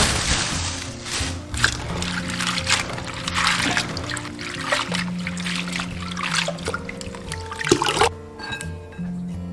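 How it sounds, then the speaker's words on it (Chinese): Bean sprouts being washed in a bowl of water, with running and pouring water, trickles and sloshing under steady background music, close and moderate, ending with a splash. "把豆芽清洗干净"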